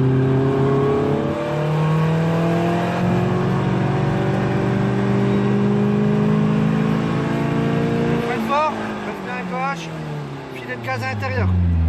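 A Caterham screams along the Croix-en-Ternois race circuit, its engine pitch rising steadily under acceleration before a burst of rapid shifts and fluctuating revs near the end, while a person talks over the loud engine.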